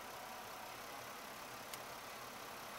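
A car engine idles steadily close by as a continuous, even hum with one brief click partway through, under a fairly loud broadband noise.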